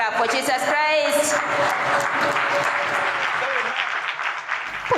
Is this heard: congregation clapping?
yes